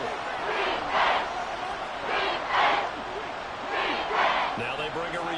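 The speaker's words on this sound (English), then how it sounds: "The crowd here in the Dome making things difficult." Stadium crowd in an indoor dome during a Madden 24 football video game: a steady roar that surges in three rhythmic swells, like chanting or cheering waves.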